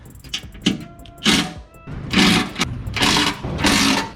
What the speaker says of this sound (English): I got my impact driver with my adapter and a 17mm socket, and then we got 1, 2, 3, and 4 bolts